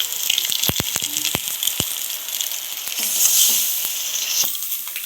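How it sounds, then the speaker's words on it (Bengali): Eggs fry in a pan with turmeric while being stirred, giving a constant close sizzle broken by sharp clicks and knocks of a spatula against the pan, loud and without talking. "ভালোভাবে ডিমটাকে নেড়ে নেড়ে লাল লাল করে ভেজে নিচ্ছি আমরা এদিকে"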